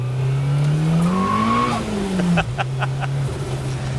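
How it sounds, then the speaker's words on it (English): Turbocharged car running about 20 psi of boost, spinning its tyres into smoke with a loud sustained engine drone and squealing tyres, rising and falling in pitch, followed by short sharp bursts near the end. "To be going that fast and spinning the wheels is absolutely incredible"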